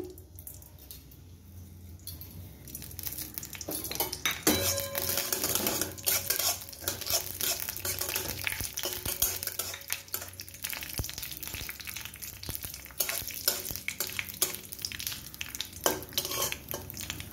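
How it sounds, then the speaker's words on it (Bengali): Mustard seeds crackle and spit in hot oil, a busy close sizzle with occasional clinks of a utensil against the pan. "আমার ফোড়নটা এবার আমি দিয়ে দিচ্ছি।"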